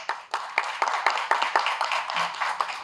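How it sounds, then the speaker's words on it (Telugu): A crowd at a public meeting claps together in a quick, irregular patter of hand claps, fairly close and moderately loud, with no voices on top. "రైట్ అయితే గట్టిగా చప్పట్లు కొట్టండి."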